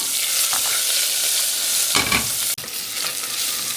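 Ginger and green chillies crackle and sizzle steadily in hot oil with mustard seeds and asafoetida over low heat, a dense close frying hiss with a few stirring scrapes and a brief dip near the end.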